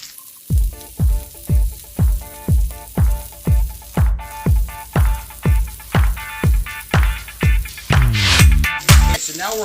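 Potatoes sizzling in a pan with pepper and salt, a loud close frying hiss that pulses in a regular rhythm of about a dozen bursts as the pan is stirred or shaken, then swells into a denser sizzle at the end.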